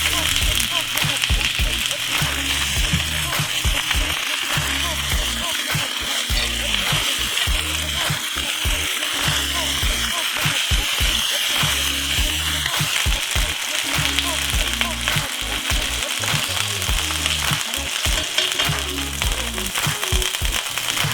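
Chicken pieces searing in hot oil in a pan over medium heat for chicken teriyaki, giving a steady, close crackling sizzle with spattering pops that continues throughout.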